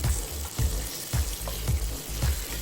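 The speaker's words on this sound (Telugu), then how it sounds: "ఇక ఇందులోనే ఎండుమిర్చి కూడా వేసి వీటిని బాగా వేయించుదాం." Dried red chillies and curry leaves fry in hot oil, a soft crackling sizzle with rhythmic stirring or scraping thumps about every half second, close and alone.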